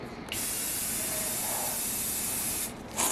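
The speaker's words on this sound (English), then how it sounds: "Miss Lucy spraying the bumper." A spray paint can hisses in one long continuous burst as it coats the bumper of a demolition derby car, steady and close, then cuts off with a brief pause before a short final puff.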